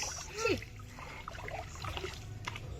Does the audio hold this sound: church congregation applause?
no